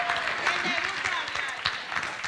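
Audience applause at a folk festival show, sustained steady clapping with a voice speaking over it near the start, the clapping continuing throughout.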